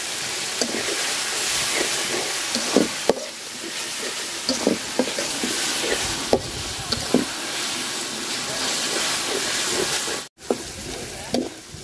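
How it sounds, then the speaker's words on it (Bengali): Onion, chili and garlic sizzling in a pan, a loud continuous frying hiss with intermittent stirring clatters and scrapes throughout, briefly cutting out near the end. "পেঁয়াজ মরিচ রসুন আমার সুন্দর করে ভাজা ভাজা হয়ে গেছে"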